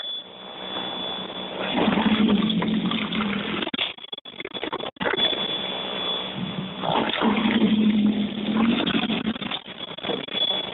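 An EGO 21-inch electric snowblower clearing a driveway roars steadily with a whirring, rushing churn of snow, loud and close, broken by a couple of brief dips before resuming.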